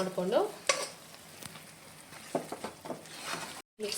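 Mashed potato and pea paste is stirred and pressed in hot oil for pav bhaji, with scraping spoon strokes and soft sizzling in irregular bursts, close up, and a brief silent gap near the end.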